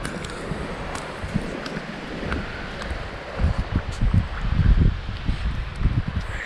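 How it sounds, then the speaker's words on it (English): Strong wind blows outdoors during a deer and elk hunt in central Washington, a steady airy rush with loud, low buffeting gusts thumping against the microphone, heaviest toward the middle and end. "it's so windy right now"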